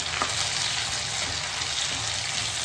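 Chopped onion, garlic and tomato sauté in a hot pan for a Tamil paruppu urundai kulambu, giving a steady, close, full sizzle and hiss with faint stirring scrapes and no talking.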